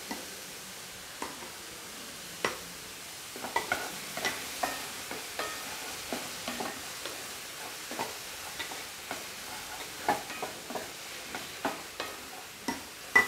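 A spoon scrapes and stirs food in a cooking pot in irregular, close strokes roughly every second, each a short scuffing knock over a quiet background.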